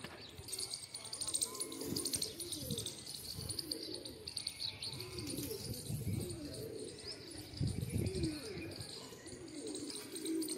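Pigeons, including a tumbler pigeon and its mate, coo in low rounded bursts near the loft, repeating over a steady hiss of background noise with faint chirps higher up, and someone talks intermittently.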